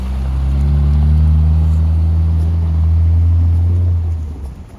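A 1970 Mercedes 280SE with its M130 inline-six and manual gearbox pulls away, a loud, steady low engine drone that holds for several seconds and then eases off as the car drives on.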